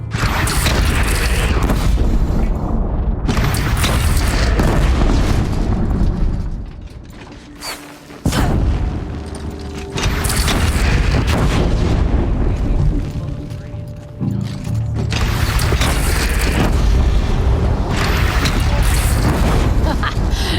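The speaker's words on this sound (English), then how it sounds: "They only have one cannon!" A bandit clan's cannon fires in the video game Horizon Zero Dawn, loud booming blasts layered into a dense, rumbling battle soundscape that drops away briefly near the middle and then resumes.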